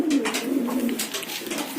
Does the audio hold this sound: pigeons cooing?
yes